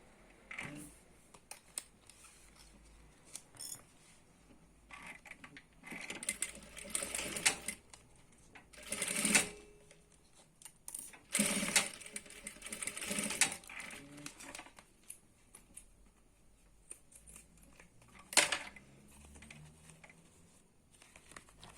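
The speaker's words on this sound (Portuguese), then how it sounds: "E agora passa uma costura de um pezinho de máquina." Sewing machine stitches binding onto a plastic toothbrush-kit case in short whirring bursts, separated by pauses filled with plastic crinkling and handling noises, close by and without speech.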